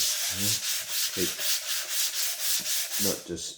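Guide-coated filler primer on a VW Beetle body is hand block sanded in a rhythmic series of about a dozen close, scratchy back-and-forth strokes, with no talking.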